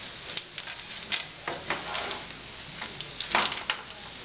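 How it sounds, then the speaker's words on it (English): Paella rice and peas sizzling in a pan, a soft steady crackle with faint irregular pops and stirring scrapes, quiet and close with no voices. "You can hear it start to sizzle."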